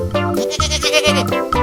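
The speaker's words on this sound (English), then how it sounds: "It's a goat." A farm goat gives one loud, close, wavering bleat lasting over a second, with a brief break partway through and no talking.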